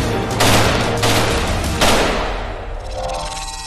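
A Heckler & Koch HK416 rifle fires on a range, a loud close burst of rapid shots that blur into a dense roar with sharp peaks, then tails off into ringing echo.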